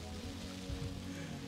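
Steady rain patters on surfaces around a boat while camping and fishing, a soft continuous hiss with a few faint low bumps and no talking.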